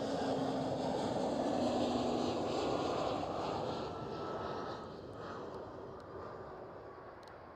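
An Eastern Airways passenger jet flying for KLM City Hopper at Schiphol Airport, Amsterdam, a loud steady engine roar that slowly fades as the aircraft moves away.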